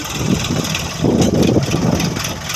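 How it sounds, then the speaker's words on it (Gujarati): A tractor engine chugging at a low, steady idle during peanut sowing, rough and rumbling with slight surges, fairly close and continuous. "આ જોયો ટ્રેક્ટર ફેરવે છે"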